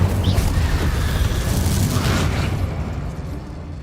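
Incendio fire spell cast in Hogwarts Legacy, a loud booming whoosh of flame with a deep rumbling body that holds steady, then gradually thins and fades toward the end.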